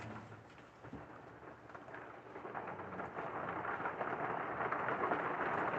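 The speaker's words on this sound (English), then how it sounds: "Can you guys hear the rain on the roof?" Rain drumming steadily on the roof of an RV, a dense hiss of drops that swells louder toward the end with low rumbling beneath, no voices.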